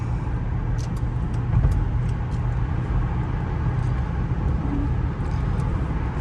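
Steady road and engine noise from a 2005 Lincoln Town Car Signature cruising at 65 mph on the freeway, heard from inside the cabin as a constant low rumble with tire roar and no voices.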